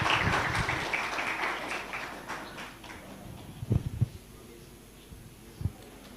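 Applause from the audience at a national youth convention on democracy, welcoming dignitaries on the dais; a broad wash of clapping that is loud at first, then thins and fades, with a few scattered thumps near the end.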